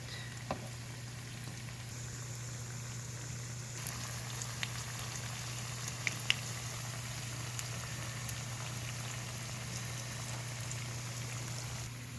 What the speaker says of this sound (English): So let these just fry for a bit.